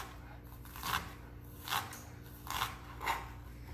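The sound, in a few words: knife chopping onions on a cutting board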